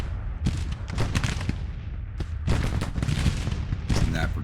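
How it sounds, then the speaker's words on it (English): Sharps rifles volleying in the Civil War video game Grand Tactician, sharp cracks arriving in several scattered bursts and clusters over a low rumbling battlefield background. "Sharps rifles back to work."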